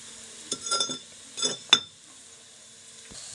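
Vegetables sauté in a pan before beetroot is added, heard as a soft background sizzle broken by a few clinking, scraping stirs of a utensil against the pan, then quieter frying.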